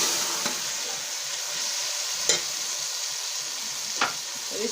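Potatoes and green onions sizzling as they fry in a pan for a mixed vegetable dish, a constant hissing sizzle with three brief scraping stirs of the spoon against the pan.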